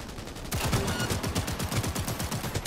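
Rapid pistol fire in Cyberpunk 2077, a dense run of sharp repeated shots at close range after a brief quieter lead-in, with game combat noise throughout.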